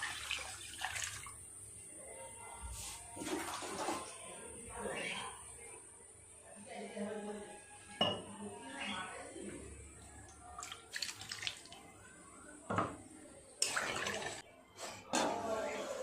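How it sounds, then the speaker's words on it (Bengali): Water is poured into a pan of potatoes sautéed with spices, a splashing, running-water sound heard close with a brief sizzle, while a person talks over it. "জল দিয়ে দেব।"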